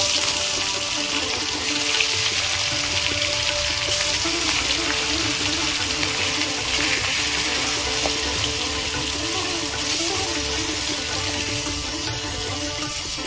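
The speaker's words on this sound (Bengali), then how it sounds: "তেল গরম হয়ে গেছে, মাছগুলো ভেজে নেব।" Pieces of katla fish fry in hot oil in a kadai, giving a steady, dense hiss that runs unbroken for the whole stretch, close and fairly loud, with no talking.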